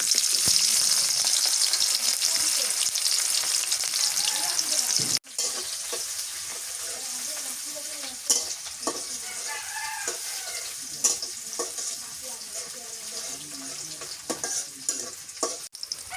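Whole spices, cinnamon, cloves and cardamom, frying with chopped onion in hot oil for a beef and gourd-leaf curry: a loud initial sizzle that settles into a softer crackle with intermittent stirring knocks.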